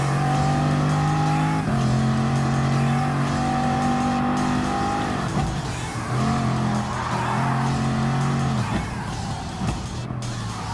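Bugatti Vision GT race car screaming around Le Mans in Gran Turismo Sport, its engine holding loud, steady high-revving tones that drop and climb with gear changes, with brief tire noise, continuous and close with no talking.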